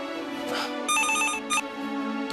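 A telephone rings in a domestic scene, sounding as a steady electronic ringtone with bright repeated tones that pulse loudly through the short stretch, with no talking over it.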